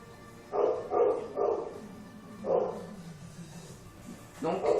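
A neighbour's dog barks in several separate bursts, near and fairly loud, with a short gap between groups of barks against a steady background hum.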